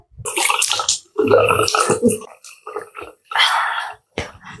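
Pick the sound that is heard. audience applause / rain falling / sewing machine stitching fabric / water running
water running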